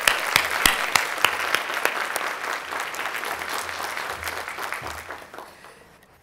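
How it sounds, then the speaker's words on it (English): A live audience bursts into sustained applause at a conference welcome session, with dense, steady clapping that holds strong before gradually thinning and fading near the end. "Let's just start the day off with some applause"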